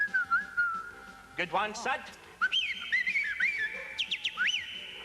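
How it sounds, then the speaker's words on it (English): A person whistles a lively, warbling tune, with bright sliding notes that rise and fall over several seconds in a TV studio, while a brief spoken comment cuts in partway through. "give us a wee bit of your whistling"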